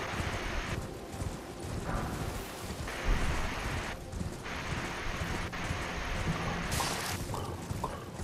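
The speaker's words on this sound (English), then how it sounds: "It's raining." Steady rain pours down in Elden Ring: Shadow of the Erdtree alongside low thunder rumbling and scattered clopping thuds, a dense continuous wash of noise without any speech.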